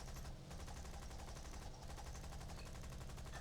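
Faint, continuous rapid machine gun fire from War Thunder aircraft, .303 guns chattering in a steady rattling stream under low engine drone.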